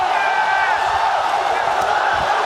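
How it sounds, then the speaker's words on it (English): A dense crowd roars and cheers at an LCS All-Star esports event, a sustained wall of voices holding steady for the whole stretch. "Just gonna let the crowd talk for me"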